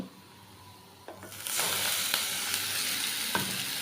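Onion with turmeric and chilli powder frying in a pan bursts into a loud, steady hiss as water is splashed in, the sizzle swelling after a quieter start and holding close with a few stirring clicks.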